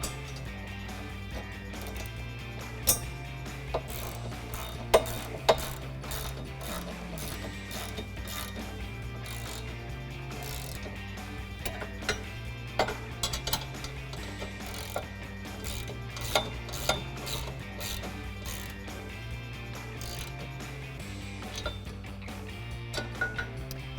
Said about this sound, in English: Now you can take a 19mm box wrench and a 19mm socket and a ratchet